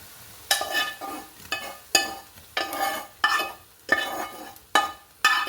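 Fried green chilies poured into tomato chutney, giving about eight sharp sizzling bursts in a steady rhythm, each flaring loud and then fading, close by with no talk.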